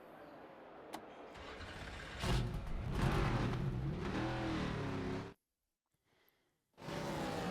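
A race car engine at Watkins Glen in the video game NASCAR 25 revs and roars loudly for several seconds, cuts out to near silence, then surges back to full throttle.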